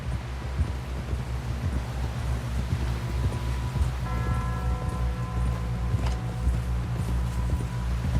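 Horse hooves clip-clop steadily at a walking pace in the Red Dead Redemption 2 video game, continuous and fairly close, layered over a low rumble with tonal music swelling in the background.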